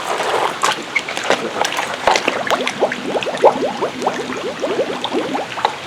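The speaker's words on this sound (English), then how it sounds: "I hear the bubbles." Water bubbling and splashing in a steady run of small gurgling pops at close range, with people talking over it.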